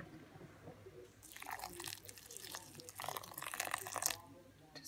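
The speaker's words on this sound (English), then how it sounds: "So I'm just going to put water, boiling water, just over the top, and then cover it and let it soak." Boiling water poured from a kettle over couscous in a bowl, a quiet splashing pour in two bursts after a brief silence, faint and close.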